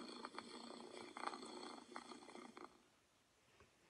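Human voice imitating a cat's purr in a children's cat fairy tale, a steady, close, raspy rumble lasting about two and a half seconds before fading to quiet.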